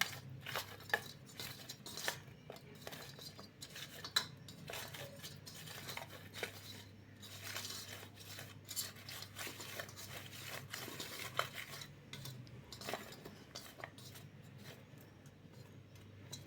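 A spoon stirs chilli powder and salt together in a bowl, making faint, continuous scraping and light clinking sounds in a quiet room, with no voices.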